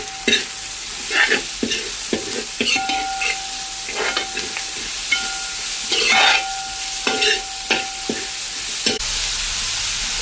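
Chopped onions (about four) frying in a pan while a spoon stirs them, for a Kerala-style liver roast; steady sizzle with repeated scraping stirs throughout, close and fairly loud, no voices.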